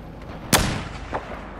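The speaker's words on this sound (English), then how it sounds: "I have a feeling rockets are being fired at me." A single loud rocket blast from Battlefield 4 multiplayer in Rush mode, a sharp boom with a rumbling tail, followed by a fainter second burst about half a second later.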